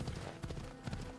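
Horse hooves gallop in the Assassin's Creed Odyssey video game, a quick, steady clip-clop of hoofbeats at moderate volume with faint game ambience and no talk.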